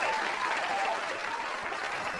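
Soft, steady applause from a small audience, a distant, even wash of clapping heard faintly and without talk.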